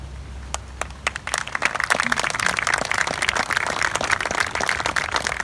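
Audience applause at a resort grand opening: a few scattered claps that swell into steady, dense clapping from a sizable crowd, sustained to the end.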